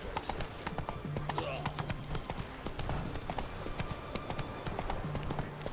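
Horse hooves clip-clop at a steady walking pace in The Witcher 3: Wild Hunt, Hearts of Stone, heard as a continuous rhythmic clatter at moderate volume under game ambience and some spoken dialogue.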